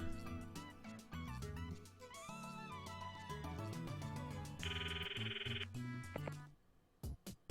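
A phone rings when calling Kurisu in the Steins;Gate visual novel: a steady, bright electronic tone that starts partway through and lasts about a second, over continuous background music.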